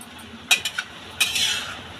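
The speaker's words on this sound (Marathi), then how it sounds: "आता ही दोन मिनटं आपण एकजीव करून घेऊया आणि मंद आचेवर पाच ते सात मिनटं ही शिजून घेऊया भाजी" A spoon stirring and mixing an amaranth leaf vegetable dish in a pan, a few sharp clinks and scrapes against the metal followed by a short rustling stir, close and brief.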